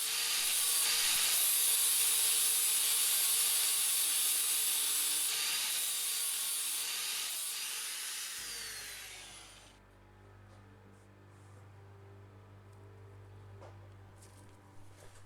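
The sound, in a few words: angle grinder grinding off motorcycle chain link posts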